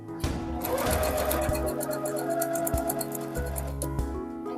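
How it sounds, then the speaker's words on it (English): A sewing machine stitches binding onto a quilt in rapid, steady bursts of needle clatter, with brief pauses between runs, close and clear with no talking. "And then just stitch a little bit over that to catch it."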